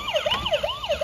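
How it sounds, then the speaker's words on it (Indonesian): A toy hospital ambulance siren wails in quick rising-and-falling sweeps, fast repeating and close, with no other sounds. "Kemudian kita jalankan ambulans yang lebih besar ini. Ini ambulans rumah sakit."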